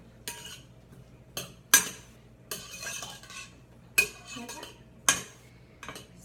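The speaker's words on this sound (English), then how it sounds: "Go ahead and add that and give it all a good stir" A spoon stirs lime juice into a salmon mixture in a bowl, giving a run of sharp scraping clinks against the dish in irregular strokes, close and fairly clear with no talking.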